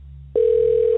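Telephone call connecting, a steady single-pitched electronic tone that starts abruptly and holds clearly over a low background hum.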